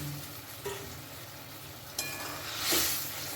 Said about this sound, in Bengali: যে বড়াগুলো আমি ভেজে রেখেছিলাম সেই বড়াগুলো এখন আমি এর মধ্যে দিয়ে দিই